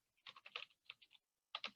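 Quick bursts of typing on a computer keyboard, close and fairly faint, with a short pause before a final flurry of keystrokes.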